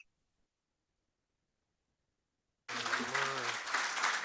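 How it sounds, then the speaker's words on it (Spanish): Applause from an audience at a European sustainability and security conference, starting abruptly after silence, loud and sustained, with a voice speaking over it near the start. "Démosle un fuerte aplauso a Juan Ignacio Zoido"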